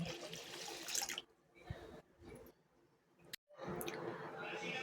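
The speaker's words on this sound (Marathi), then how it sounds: "आता यामध्ये आणि आपण दुसरं पाणी ॲड करायचं आहे." Fresh water runs from a tap into a vessel of soaking rice in short bursts, with brief gaps, a sharp click and a final stretch of splashing flow, all heard up close.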